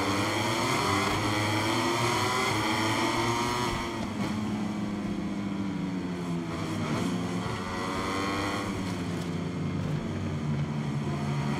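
Racing motorcycle engines in the MotoGP 23 video game roar together at the start of a race, a dense, loud, continuous drone of overlapping engine tones that climb in pitch as the bikes accelerate.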